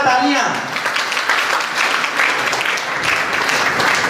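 Loud, sustained applause from a crowd at a women's training camp prize ceremony. A voice briefly trails off at the very start, then dense clapping carries through to the end.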